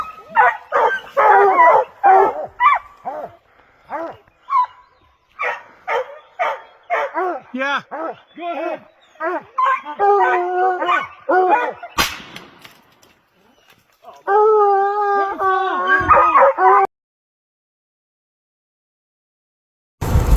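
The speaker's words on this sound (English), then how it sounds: "Yeah, there's a bunch of dogs." Hunting hounds on a spring bear hunt in Idaho bark and yelp in rapid, uneven bursts, then break into a sustained, drawn-out howl, with a few brief spoken words between the barks.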